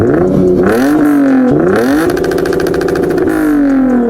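Car with a catback exhaust, muffler delete and high flow resonators revving hard, engine pitch climbing and falling in repeated loud blips with a raspy crackle, close and alone.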